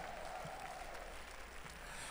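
A church congregation claps and calls out in praise, a steady wash of applause and crowd noise filling the room throughout, fairly soft and continuous with no clear speech over it.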